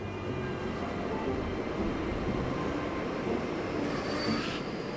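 A cartoon train, Titipo, rolls into Choo-Choo Town with a steady, loud rumble of wheels on rails and a faint high squeal near the end, with no talking.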